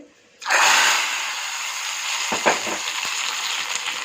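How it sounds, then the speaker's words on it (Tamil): Spices tempering in hot oil for a dish to go with chapati, hitting with a sudden loud sizzle that settles into steady crackling and spitting, with a few small clinks, close up. "இப்போ இதை வந்து தாளித்து கொட்டிடலாம்"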